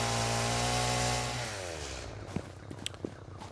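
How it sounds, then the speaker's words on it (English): Chainsaw running in the video game Satisfactory, a steady buzzing drone that fades after about a second and a half, followed by sharp intermittent cutting clatters. "We're gonna get our chainsaw out"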